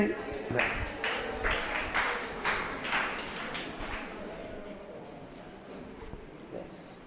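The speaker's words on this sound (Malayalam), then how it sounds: "ഒരു കയ്യടി കൊടുത്തേ." Audience at a youth retreat in Neyyattinkara applauding together in a short burst of clapping that rises, then thins out and fades, with speech partly under it.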